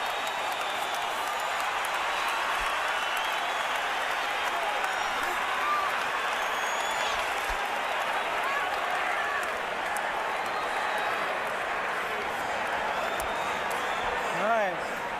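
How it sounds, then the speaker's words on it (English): A big arena crowd at a Las Vegas boxing match, Pacquiao vs Marquez, roars in a dense, unbroken wall of cheering noise that holds steady throughout. "The crowd's on its feet."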